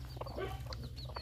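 Semi free-range jungle fowl cluck in short, scattered calls close by over a steady low hum, with no voices.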